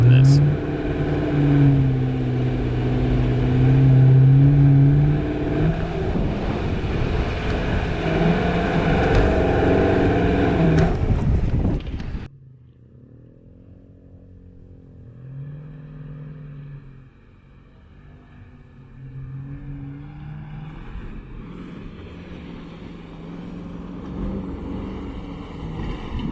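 A Jeep Grand Cherokee WK2 in four-wheel high, auto mode, climbs a sand dune near Moab with a loud, sustained engine roar and revving for about twelve seconds, then drops abruptly to a quieter, lower drone.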